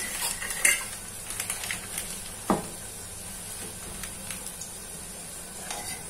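Bread dahi vadas fry one at a time in oil, giving a soft steady sizzle with occasional clinks of a utensil against the pan, without speech.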